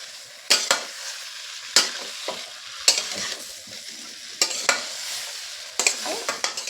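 Broccoli being stirred and fried with spices, a low sizzle broken by repeated sharp scraping strokes of a utensil against the pan at irregular intervals.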